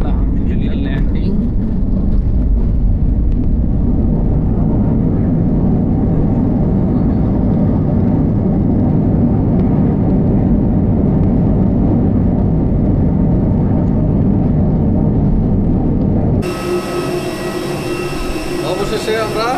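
An airliner landing at Tribhuvan Airport in Nepal, heard from the cabin as a loud, continuous roaring rumble that abruptly shifts to a thinner, hissing tone near the end.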